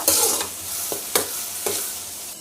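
Onion, green chillies and curry leaves sizzle steadily in a hot pan while a spoon scrapes and stirs in several short strokes, close and fairly loud.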